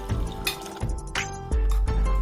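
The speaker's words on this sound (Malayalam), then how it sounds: "ഗ്രേവിക്ക് ആവശ്യമായ വെള്ളം കൂടി ഒഴിക്കാം." Water splashing and pouring into a tuber curry's gravy in a pot in a few short bursts, close and fairly loud, with clinks of cookware.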